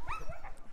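Husky sled dogs pulling a small cart on a trip in Hungary bark and whimper in quick, excited yips, several short close calls overlapping within a single breath.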